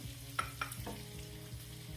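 Shallots hitting hot fat in a pan already holding garlic, giving a steady close sizzle and frying crackle with a few sharp utensil clicks, no talking.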